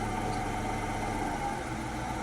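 Car engine idling down after a JB Weld repair, a steady low drone with faint vibration, held evenly throughout, with no voices.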